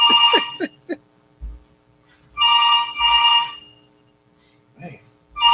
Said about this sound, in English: They better pick up the phone, Goose.